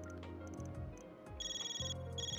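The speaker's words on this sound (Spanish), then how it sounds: "Me llama el teléfono, disculpad." An in-game telephone rings in Trails Through Daybreak, a faint electronic trill pulsing in quick repeated bursts over quiet background music.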